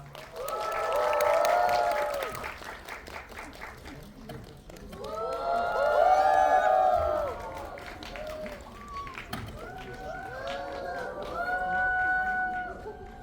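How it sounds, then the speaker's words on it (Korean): A cinema audience at Megabox COEX greets the cast and director of Dark Nuns with applause and rising bursts of high-pitched cheering and screams, swelling in waves that fade and return. "큰 박수와 환호성으로 맞아주시기 바랍니다."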